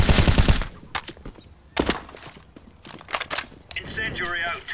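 Gunfire in a competitive CS:GO match on Inferno, a few sharp, loud shots cracking out near the start and at scattered moments, with a voice talking between the bursts and a chirpy game sound near the end.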